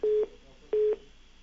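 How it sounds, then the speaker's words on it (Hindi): A telephone line after a call cuts off, giving two short, identical steady beeps about 0.7 seconds apart, clear and alone. "चलिए फोन डिस्कनेक्ट हो गया"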